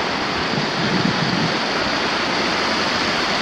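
Rushing water beside a forest trail in the goblin forest on Mount Taranaki, New Zealand, a close, loud, steady roar like a stream or small waterfall, with no talking.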